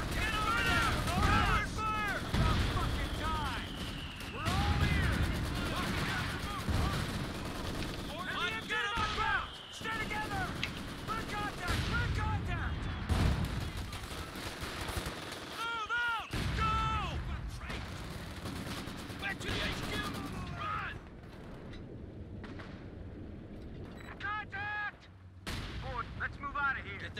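Sustained automatic fire from an MG42 machine gun in a 4v4 shooter match, loud and dense rattling bursts layered with other gunshots and booms, with shouted voices over it, easing off somewhat toward the end.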